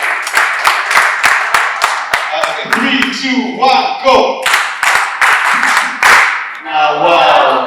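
A panel-session audience performs a rhythmic Nigerian clap, sharp synchronized claps in quick bursts after a spoken countdown, with voices calling out between them.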